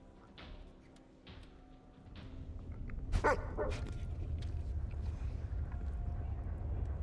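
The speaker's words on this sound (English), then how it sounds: "I'm feeding the dog here." A dog barks a few times in the video game Necromunda: Hired Gun, short sharp yelps early on, followed by a loud rushing, wind-like rumble that fills the rest of the moment.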